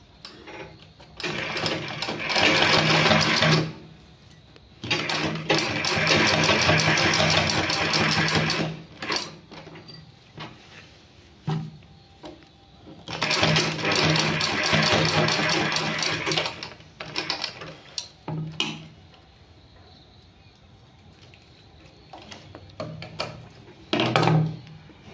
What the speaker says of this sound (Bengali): এরপর আমি এখান থেকে আবার সেলাই করে নিচ্ছি।